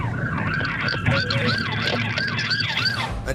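An ambulance siren wailing at a crash scene on a city boulevard, a loud repeating rising-and-falling tone over traffic noise, close and continuous.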